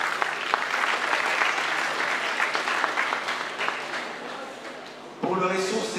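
Audience applause at a debate final, dense steady clapping for several seconds before a voice cuts in over its fading tail.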